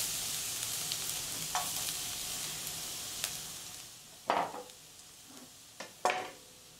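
Thinly sliced garlic sizzling in hot oil in a pan, a steady soft frying hiss with a few sharp clinks and scrapes of a utensil standing out near the end.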